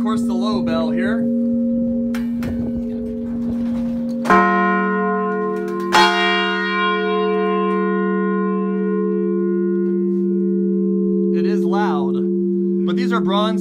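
A low bronze church bell of St Mary's, dated 1872, rings with deep sustained tones, struck several times so strikes overlap and hum on, with brief talking near the start and end.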